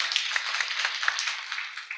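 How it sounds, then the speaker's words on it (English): Audience members at a Nairobi bankers' wealth-building session clap for themselves, a light scattering of claps, faint and fairly distant, fading slightly toward the end. "A clap for yourselves."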